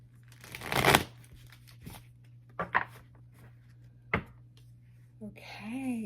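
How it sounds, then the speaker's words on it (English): A deck of tarot cards is shuffled by hand in a few short, crisp riffling bursts separated by pauses, close and fairly quiet, with a voice speaking briefly near the end. "Let's do a little shuffle real quick."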